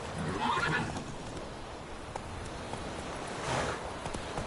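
Roach, a horse in The Witcher 3 video game, whinnies twice, once near the start and again near the end, over a steady background of galloping hooves.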